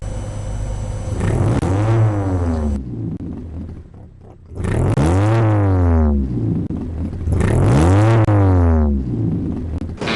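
Classic cars of the Classic Car Club of Ceylon's annual heritage rally in Colombo pass one after another, three loud engine sweeps rising and falling as each nears and recedes, with brief quieter gaps between.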